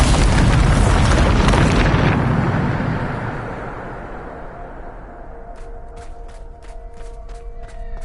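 A spell explosion in the video game Hogwarts Legacy: a loud, roaring boom fills the opening two seconds, then rumbles away into a fading tail while light chiming game tones tick in the background.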